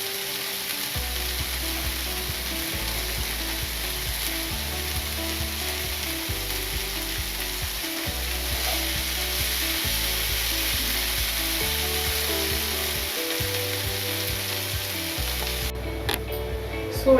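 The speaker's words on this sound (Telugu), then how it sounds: "ఇలా వీటిని హై ఫ్లేమ్లోనే ఉంచుకొని కలుపుకుంటూనే ఉండాలి" Double egg chicken fried rice being stir-fried on a high flame: a loud, steady sizzle and crackle of frying, with rhythmic scraping and stirring clatter throughout and no talking.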